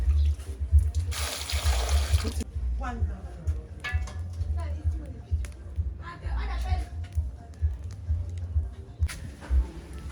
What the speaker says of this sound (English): it's time to put water